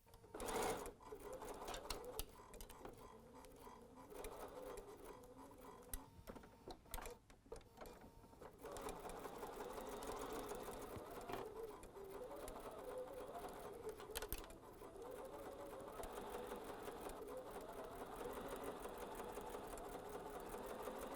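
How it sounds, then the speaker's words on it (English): Sewing machine stitching a quarter-inch seam through quilt block and border fabric, a steady close whirring hum that starts after a few brief stops and runs on evenly. "we're going to sew with a 1/4 inch seam."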